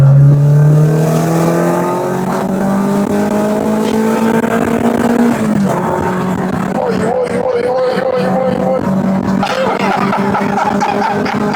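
A Peugeot 306 engine revs up hard, its pitch climbing steadily through the gears before settling into rougher mid-range pulling, loud and close from inside the car with tyre noise in the background.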